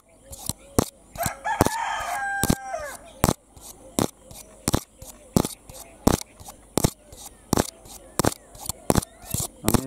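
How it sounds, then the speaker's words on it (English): A rooster crows once, close and loud, among other fowl sounds, while sharp scratching or tapping bursts on a camera repeat regularly throughout and dominate the sound. "Amazing bird singing sounds."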